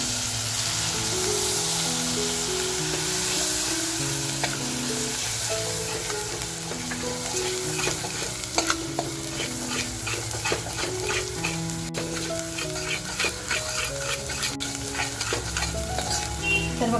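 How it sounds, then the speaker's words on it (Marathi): Ground masala paste for lobster curry fries in a pan, a steady loud sizzle with bursts of stirring, while music plays throughout. "आपला मसाला किती जबरदस्त फ्राय झालेला आहे"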